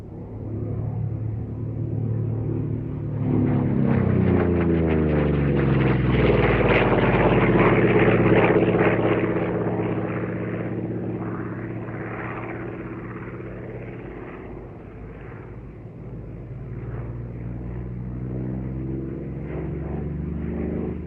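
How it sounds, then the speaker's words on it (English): A Fleet Air Arm Corsair propeller fighter flies past at an air show, its deep droning engine swelling loud and close with a sweeping pitch shift, then easing into a sustained rumble as it moves away. "a Fleet Air Arm Corsair based aboard HMS Vengeance in the Pacific during December 1945"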